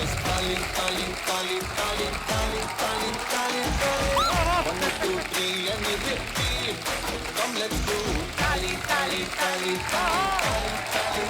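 Studio audience on a Hindi comedy talk show applauding as actresses Sonakshi Sinha and Huma Qureshi walk on, dense sustained clapping mixed with cheers and music, with voices over it throughout.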